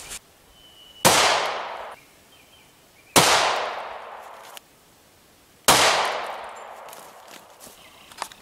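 Three loud, sharp gunshots crack out at even intervals as Hornady American Gunner 124+P rounds are test-fired into ballistic gel, each report ringing briefly before fading, with no talk between the shots.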